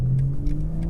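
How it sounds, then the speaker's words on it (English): A BMW F30 with a Valvetronic cat-back exhaust idles steadily, a low, even engine hum with a faint rise in revs running through a brief moment, close by and with no talk. "This is a Valvetronic exhaust."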